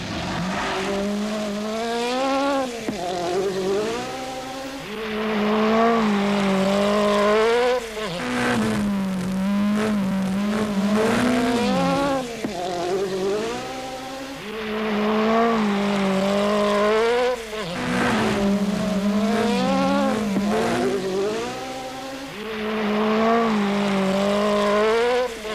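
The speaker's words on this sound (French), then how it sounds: "Vatanen part à son tour, pilotant toujours à la limite avec l'incroyable brio qu'on lui connaît." Peugeot 405 T16 rally car racing up Pikes Peak, its engine wailing loudly through repeated rising revs and sharp gear changes, the climbing and falling pitch cycling over and over as the car powers between corners, with no talk.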